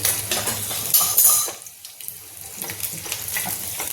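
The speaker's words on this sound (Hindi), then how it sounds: "मिर्चा को हमें भून लेना है और लहसुन को मुझे थोड़ा सा लाल कर लेना है।" Garlic and chili sizzle and crackle in a hot pan, with utensils scraping and clinking; the sizzle drops briefly before resuming, close and without talk.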